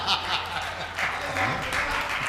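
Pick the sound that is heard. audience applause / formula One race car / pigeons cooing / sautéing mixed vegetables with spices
audience applause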